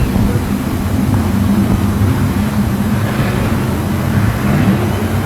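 ASCS National sprint cars roaring around the Skagit Speedway dirt track during the Jim Raper Memorial Dirt Cup A-Main, a loud, continuous wall of engine noise with no break.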